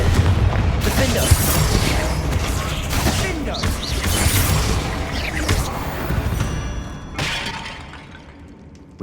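Repeated Confringo fire spells explode in a Hogwarts Legacy fight, loud crashing blasts and shattering bursts that come one after another over several seconds, with game sounds and a voice mixed in, fading toward the end.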